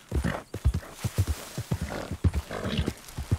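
A horse's hooves clip-clop in a fast, even rhythm in the Red Dead Redemption 2 video game. Each hoofbeat comes through loud and close over a faint background, with no talking.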